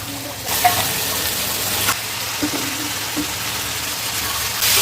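Potato, eggplant, flat beans and other vegetables go into hot spices tempered with nigella seeds in a pan for a Bengali fish curry. A loud hiss bursts out, then settles into a steadier, quieter sizzle with a few small clatters.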